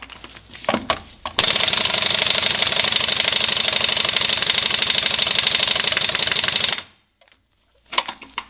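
Ingersoll Rand or Husky impact gun loosening a lug nut: a loud, sustained rapid hammering rattle for about five seconds, close by, then cutting off to near silence with a few faint knocks before and after.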